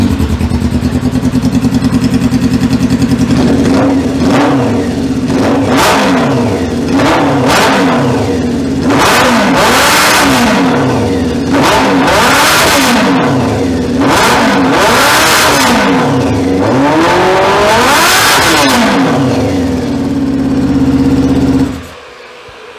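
The engine of a Honda ATC600r three-wheeler catches and idles, then revs up and down again and again in loud, close surges, each climbing and falling away before settling back to a steady idle and cutting off.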